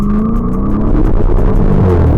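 A 2018 Dodge Charger Scatpack held at full throttle on launch control, its engine a loud, close, steady roar with a sustained rumbling drone throughout.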